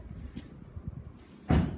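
BMW 330e car door shutting, with a soft rustle followed by a single solid thud near the end, heard close up.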